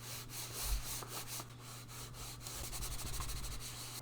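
Razer DeathAdder Essential gaming mouse with rough, sandpaper-like feet scraping across a pad, a faint, continuous raspy rubbing with brief louder strokes, alone and quiet.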